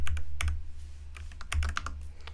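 A computer keyboard clicks in short, uneven bursts of keystrokes, including a tab press for autocompletion in an editor's command mode, close and clear with a faint low hum underneath.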